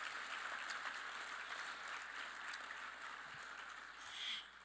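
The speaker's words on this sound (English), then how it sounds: "a quick round of applause for everybody who will be honored tonight" A banquet and hall of fame induction audience applauds steadily, a dense wash of many hands clapping at a moderate distance, swelling slightly near the end.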